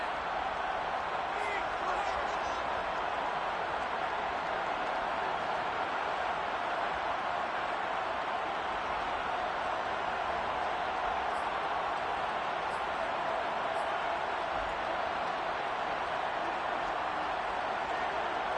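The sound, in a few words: stadium crowd in a football video game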